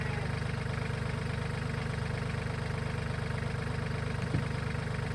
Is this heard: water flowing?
no